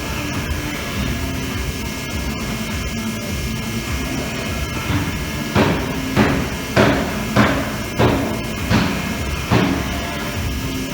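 A machine tapping threads for set screws at about 1,000 to 1,200 RPM on a Highland Park Lapidary Model 16 slab saw carriage, a steady machine hum punctuated by a series of evenly spaced knocking pulses in the second half.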